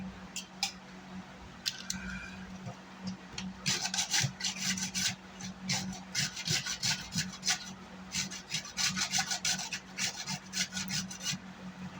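Small knife scraping and rasping against a Skar VXF 15 D4 subwoofer during burnt voice coil repair, a close, quiet run of irregular scratchy strokes that grows busier after the first few seconds.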